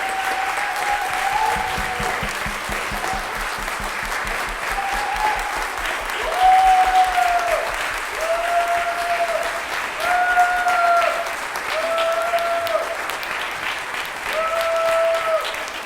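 Loud, sustained applause from a church congregation, many hands clapping continuously, with a sustained tone and faint voices running beneath the clapping.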